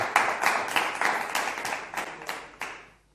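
A short round of applause from an audience in a Azerbaijani TV studio, about eight distinct clapping bursts that gradually fade to silence.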